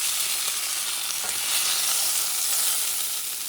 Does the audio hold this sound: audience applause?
no